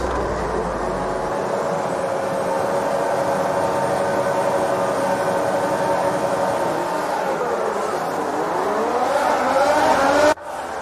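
Formula 1 cars launching off the grid in the F1 2019 racing game at the Canadian Grand Prix, a loud dense engine roar with rising pitch sweeps as the field accelerates, ending abruptly.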